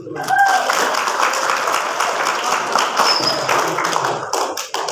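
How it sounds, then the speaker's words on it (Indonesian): A room of school students claps hands together in a dense, lively round at a religious talk, loud and close, with a voice speaking at moments. "Tepuk tangan dulu"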